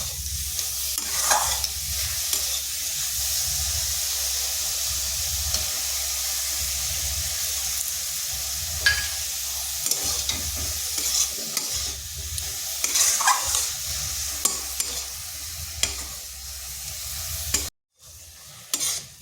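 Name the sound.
carrot and sugar mixture being stirred and cooked in a pan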